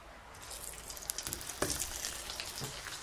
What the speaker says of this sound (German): In die untere Pfanne kommt die vegane Alternative.